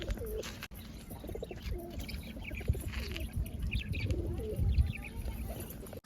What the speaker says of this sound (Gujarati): જો મિત્રો કેટલા બધા કબૂતર છે